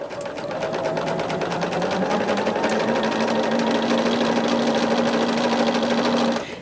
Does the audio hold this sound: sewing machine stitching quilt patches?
yes